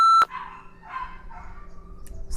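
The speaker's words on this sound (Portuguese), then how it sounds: "Os cachorros do vizinho latindo." A neighbor's dogs bark in a few short bursts at a moderate distance, following a sharp electronic beep at the start, over a low background hum.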